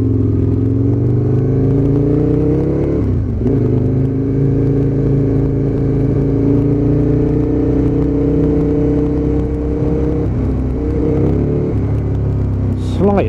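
An Aprilia RSV Mille V-twin motorcycle engine holds a loud, close, steady rumble with a couple of brief dips and swells in pitch, and a rider talks over it.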